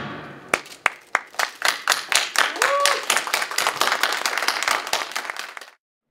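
A crowd at the Seoul National Palace Museum bursts into applause as a UNESCO listing is announced on a monitor, sharp separate claps building into dense clapping, then stopping abruptly, with some voices mixed in.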